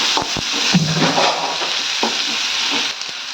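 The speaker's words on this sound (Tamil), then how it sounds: "எல்லாம் ஒன்றா சேர்ந்த மாதிரி நம்ம வந்து நல்லா வதக்கி விட்டுக்கலாங்க." Onion, tomato and curry leaves sautéing in a pan, a continuous sizzle with several scraping stirs of a spoon against the metal, close and fairly loud.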